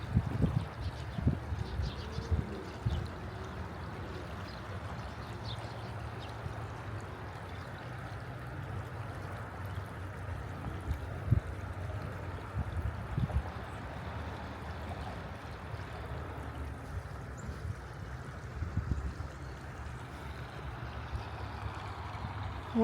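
Creek water running steadily after storms, a continuous low rushing flow heard outdoors at moderate distance, with faint occasional knocks and no talk.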